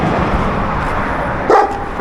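Dogs at a farm at night bark amid constant rough outdoor noise, with one sharper, louder bark standing out toward the end.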